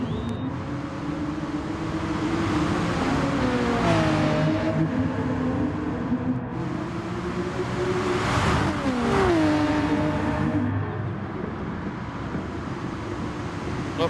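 Audi R8 race cars roar through a racing video game, engines rising and falling in pitch as they pass, with a steady loud drone and wind rush throughout.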